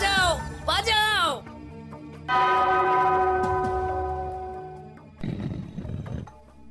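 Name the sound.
bell being rung in a Gopal Bhar cartoon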